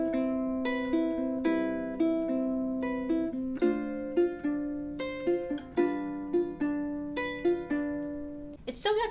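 A ukulele plays a simplified, repeating riff from a song as an all-levels arrangement, with clear plucked notes falling in an even, looping pattern that sits up close and alone, with no voices.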